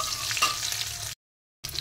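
Black cumin seeds, dried red chillies and a bay leaf frying in hot oil make a steady, close crackling sizzle, cut off by a brief silent gap before it resumes.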